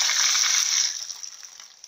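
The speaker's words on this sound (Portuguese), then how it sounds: "dar uma ligada na torneira pra ele encher." Tap water gushes steadily into a Newmaq twin-tub washing machine, a loud, close, continuous rush that thins and trickles off about halfway through.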